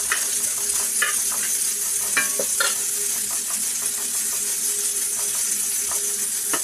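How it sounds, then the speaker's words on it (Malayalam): Tapioca and clam meat mixture being stirred in a hot pan, with steady sizzling and repeated scraping strokes of the spoon across the pan, close and alone with no talk. "നന്നായി ഇങ്ങനെ ഒന്ന് ഇളക്കി കൊടുക്കണം."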